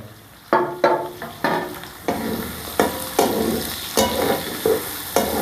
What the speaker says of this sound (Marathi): कांदा लाल होईपर्यंत तळून घ्यायचा व्यवस्थित